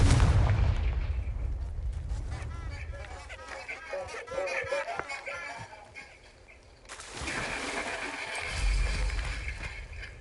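Repeated Confringo fire-spell blasts in Hogwarts Legacy, heavy booming bursts with crackling debris amid battle noise and other spell effects, continuous and loud through the fight.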